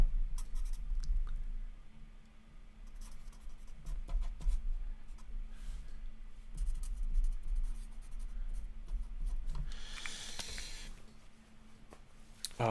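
Pen scratching across paper while someone jots a note by hand, close and fairly clear, with a few clicks and shuffles, no talking, and a brighter rustle near the end.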